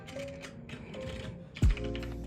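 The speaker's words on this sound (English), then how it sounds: "Obviously, this keyboard doesn't sound that great." Typing on a computer keyboard fitted with HyperX pudding keycaps, a steady run of close, clacky keystrokes with one heavier thump near the end.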